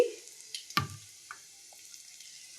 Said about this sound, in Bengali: আর এইদিকে তেলও কষিয়ে দিয়েছি একবারে একটু বেশি করে তেল দিয়ে দিলাম আর লঙ্কা কুচিয়ে দিয়ে দিলাম